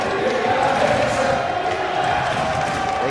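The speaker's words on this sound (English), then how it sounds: "this crowd once again is getting riled up" Steady roar of a basketball crowd getting riled up and cheering in a college gym during a Yeshiva Macs vs. NYU Violets men's game, a loud continuous wash with no distinct pauses.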